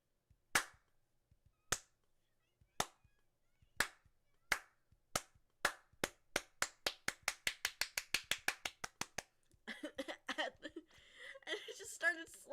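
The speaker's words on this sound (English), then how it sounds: "I just started slow clapping at them" Slow clap from one person, single hand claps starting far apart and gradually speeding up into a rapid run, then dissolving into mixed clapping and noise at the end; fairly faint.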